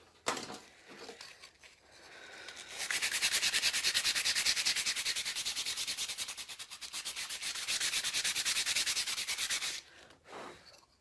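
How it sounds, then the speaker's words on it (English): Close, steady sanding of a surface freshly coated with two layers of white paint, a dense continuous rasp running for several seconds after a few quieter scuffs, then easing off to brief light rubs. "so I like to give a good sand after 2 coats of the white"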